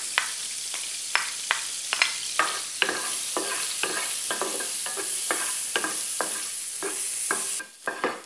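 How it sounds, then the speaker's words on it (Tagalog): Four cloves of garlic sizzle and fry in a pan, a steady hiss broken by repeated sharp scrapes and clicks from stirring, close and fairly loud with no talking. "Lagyan na natin yung ating garlic."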